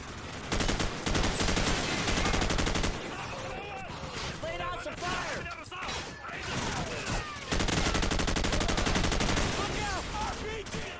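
Dense automatic gunfire bursts from a Modern Warfare firefight, loud and near, with rapid fusillades broken by short pauses and scattered single shots throughout.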